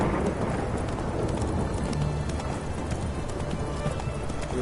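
Roach, the horse in The Witcher 3, gallops through rain with a steady, loud, rolling clip-clop of hooves over constant rainfall and rumbling ambience.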